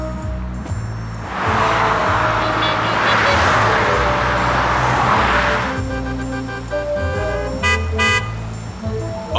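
Sewage trucks roll past on a Dubai road, a heavy, steady drone of engines and tires that swells and then fades, with horn toots in traffic afterward.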